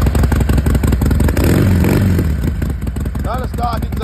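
2010 Harley-Davidson Sportster 1200C with fuel injection and an aftermarket exhaust with baffles, idling in neutral with a loud, close, rhythmic V-twin lope and some mechanical clatter, while someone talks over it.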